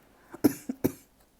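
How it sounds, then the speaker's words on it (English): Several dry, sharp coughs in quick succession, close to the mic, with a short quiet gap after each one and no talking. "Oh, what kind of cough was that? Is that a dry cough?"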